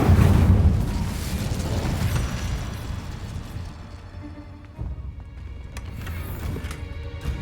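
Incendio fire spell in Hogwarts Legacy going off with a loud booming blast that rumbles and fades, followed by softer bursts and crackles.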